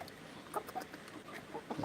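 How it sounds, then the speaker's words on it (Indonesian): Sumatran red junglefowl in a breeding pen giving a few soft, scattered clucks, faint and close by over a quiet background. "Ayam hutan merah Sumatera guys."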